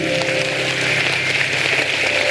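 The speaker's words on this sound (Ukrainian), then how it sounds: "Ми вас вітаємо вашими оплесками, нові друзі." A crowd applauds steadily, a dense wash of clapping that holds at an even level throughout without pause.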